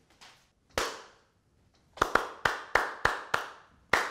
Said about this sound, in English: That's the clap.